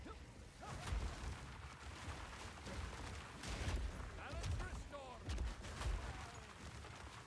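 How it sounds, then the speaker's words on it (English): Lightning cannons fire in Path of Exile 2, a dense, continuous barrage of crackling blasts and whooshing impacts, with heavier booms recurring every second or so against a busy combat bed. "The lightning cannons are kind of fucking scary."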